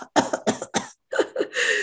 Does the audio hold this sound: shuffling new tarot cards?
no